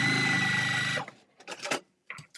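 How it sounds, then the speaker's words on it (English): A sewing machine runs in one steady, dense burst while stitching quilt blocks unpinned, then cuts out abruptly, leaving a few short scattered rustles and clicks. "I just sewed that blindly."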